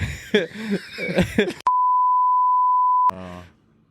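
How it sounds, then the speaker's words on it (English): A steady censor bleep tone, loud and unbroken for about a second and a half, cuts between stretches of conversational talk before and after it. "We'll bleep it out."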